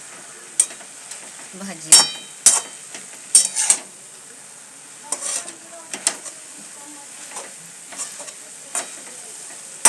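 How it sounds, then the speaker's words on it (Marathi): A home-style cowpea curry with red chutney is stirred in a pan, giving a string of sharp metallic scrapes and clinks over a soft sizzle, irregular and close, with a brief spoken word. "हे तांबडी चटणी घातली आणि तिला हलवून घेऊ"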